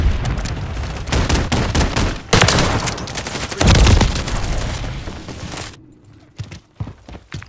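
Modern Warfare 3 video game combat with dense, loud machine-gun fire and booming shots that run continuously for several seconds. The fire then drops away to a few sparse, isolated cracks.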